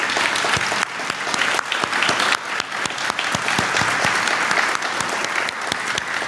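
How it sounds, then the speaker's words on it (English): An audience at an alumni lunch keynote gives a round of applause for the alumni, staff, faculty and student volunteers, a loud, sustained patter of many hands with sharp individual claps standing out. "So let's acknowledge them with a round of applause."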